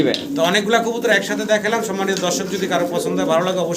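Fancy pigeons cooing in a loft, soft repeated throaty coos running continuously beneath a voice.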